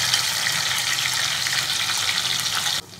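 Water rushes from a bowl into spiced masala frying in oil for Afghani chicken, a loud, dense hiss and splash that holds steady for nearly three seconds before cutting off sharply.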